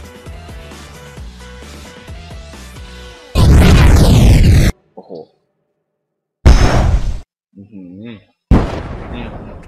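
Several short, loud blasts go off one after another with silent gaps between them, following a stretch of busy rhythmic background sound.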